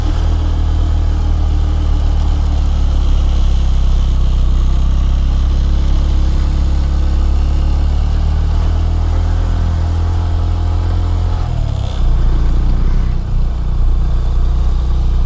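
A Honda CB150 Verza motorcycle engine runs while riding, a loud, steady close-up drone with a brief shift in tone near the end and no talking.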